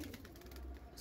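Cooing from a group of kept pigeons, including a male bird, forms a steady low burble close by, with no one speaking.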